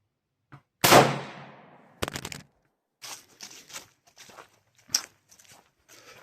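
A Swedish Mauser rifle fires one sharp, loud shot outdoors at a 100-yard target, followed by softer scattered clunks and thumps like handling and movement.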